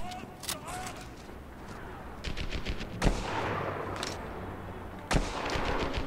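Gunfire in Medal of Honor: Airborne, with an enemy shooting through a wall in a factory complex: scattered sharp shots and short automatic bursts alongside a few heavy impacts, mixed with steady background battle noise.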